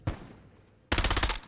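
Warzone battle royale gunfire: a single sharp shot followed by a rapid automatic burst of about ten rounds, loud and close with no talk.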